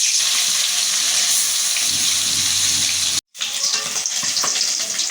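Turmeric-coated bata fish fries in hot oil with a loud, steady sizzle that stays dense and close throughout, broken once by a brief silent cut.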